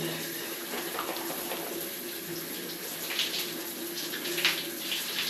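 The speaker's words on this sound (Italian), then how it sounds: "qua ragazzi la doccia è rigorosamente con l'acqua fredda" A shower runs with cold water, its fine, continuous spray hissing steadily with small splashy flickers. It is fairly soft and close, and no one speaks.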